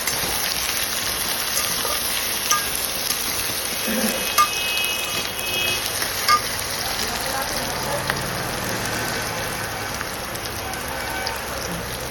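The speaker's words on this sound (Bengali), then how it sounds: "এবার কেটে রাখা কুমড়োগুলোকে এর মধ্যে দিয়ে দিলাম, দিয়ে ভালো করে সাঁতলিয়ে নিচ্ছি।" Cut pumpkin pieces sauté with spices in a pan for a shrimp and pumpkin curry, giving a steady, close oil sizzle and crackle throughout, with a few brief scrapes and knocks along the way.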